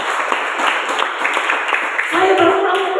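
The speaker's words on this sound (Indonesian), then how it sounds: "Beri tepuk tangan bagi Tuhan Yesus." A church congregation at a Pentecostal service in Kalabahi claps and applauds continuously for three seconds, a dense crowd of hand claps with a voice rising over the end.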